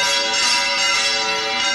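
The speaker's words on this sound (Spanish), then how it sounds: "Al fin sonaron las campanas, maestro." Church bells ring loudly as a sound effect, a bright sustained metallic peal filling the short moment with no voices over it.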